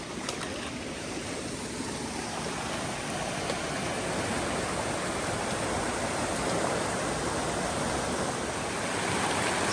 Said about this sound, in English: Second river crossing.